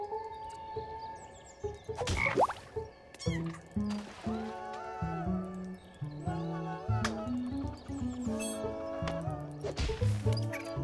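Frog croaks in the puzzle platformer video game Toki Tori 2, repeated short tonal calls mixed with game music and chirpy effects, steady and moderately loud throughout.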